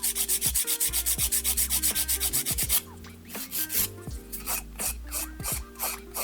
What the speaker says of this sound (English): Now I'm going to use a file to do my normal filing routine